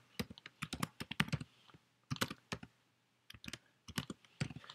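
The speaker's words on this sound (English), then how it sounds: "the other thing we can do is just type it in" Keys clatter on a computer keyboard as colour values are entered in a coding session. The typing comes in quick close bursts of clicks with short pauses between them and no talking.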